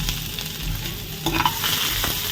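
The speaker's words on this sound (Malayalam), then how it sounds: "സവോള അരിഞ്ഞത്, ഇഞ്ചി, വെളുത്തുള്ളി, ടൊമാറ്റോ എല്ലാം ഇട്ടൊന്ന് വഴറ്റി കൊടുക്കണം." Onion, ginger, garlic, tomato and curry leaves sauté in a pan for egg masala, giving a steady close sizzle with stirring scrapes throughout and a brighter crackle partway through.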